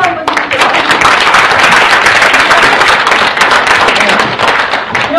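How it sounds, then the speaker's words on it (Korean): An indoor audience at a community talk applauds a group of teachers, with loud and dense hand clapping that goes on steadily for the whole stretch. "선생님들께 박수 한번 주세요."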